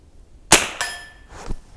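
A single sharp crack from a Henry Frontier long-barrel .22 rifle firing TAC 22 ammunition outdoors, close and loud, followed by a ringing metallic ping and a faint later thud.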